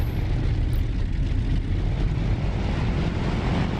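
A Focke-Wulf Fw-190 piston fighter taking off in the DCS flight simulator: a loud, steady engine roar with dense propeller drone held at full power throughout, alone with no voices.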